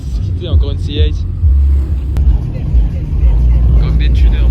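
A Chevrolet Corvette C8 rumbles low and loud at a car meet, its deep engine drone rising and falling with people talking nearby over it.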